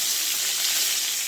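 Pointed gourd (potol) frying in hot oil in a karahi fills the moment with a loud, steady, close hiss of sizzling, with no talk.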